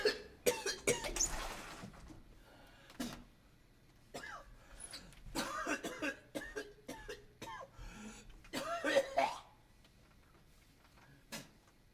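A man coughs hard and repeatedly after a dab, with harsh, rasping bursts and throat clearing spread across a quiet room, some fits clustered close together.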